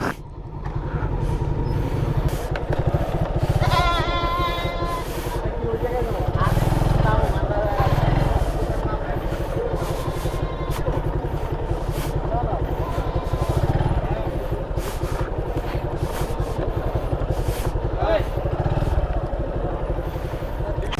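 A motorcycle engine hums and idles nearby at a riverside campsite parking spot, a steady low drone with occasional revs, while people talk over it.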